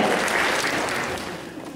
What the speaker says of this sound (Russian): Давайте его поприветствуем нашими аплодисментами